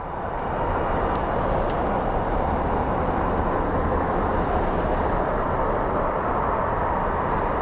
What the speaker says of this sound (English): let's go take a look at this beautiful plane